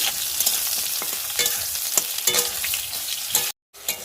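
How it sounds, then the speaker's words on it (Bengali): Pointed gourd sizzles steadily in hot oil in a pan as it fries for a curry, with spatula stirring scrapes rising through the dense crackle and a brief dropout near the end. "আর এই যে পটল তরকারি করবো, ওই জন্য পটলটা এবারে ভাজছি"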